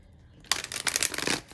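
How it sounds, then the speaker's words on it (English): Tarot cards being shuffled close up, a quick riffling flutter lasting about a second. "Just going to shuffle one more time so we can get a good, clean read."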